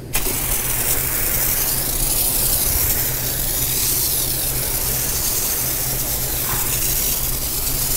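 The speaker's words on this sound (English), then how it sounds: "I have now foamed the fender." Foam sprayer hissing steadily as foam is applied to a car's fender during a wash, a continuous broadband spray held at close range with a low machine hum beneath, no voices.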